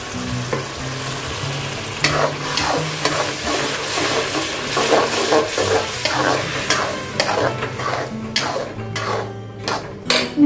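Tomato puree from seven or eight tomatoes and four green chilies hit a hot pan for cabbage sabji, a steady loud sizzle and frying hiss with spoon stirring and scraping against the pan, sharper clinks toward the end.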